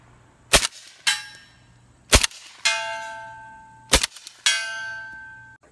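Subsonic 7.62x39 220-grain Detroit Ammo rounds fired through a Dead Air Wolverine suppressor, three muted shots each followed about half a second later by a bright ringing clang from the target, evenly spaced and close.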